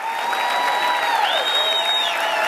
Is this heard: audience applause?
yes